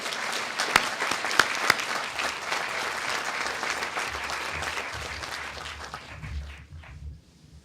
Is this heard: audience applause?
yes